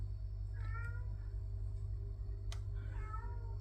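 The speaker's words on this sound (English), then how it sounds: "If you can hear, that's Tommy meowing for some reason" A cat meows twice in a workshop, faint and somewhat distant over a steady low hum.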